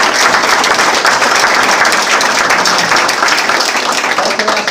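Loud, dense applause from a live studio audience during an evening local news program, a continuous wash of many hands clapping with no talk over it.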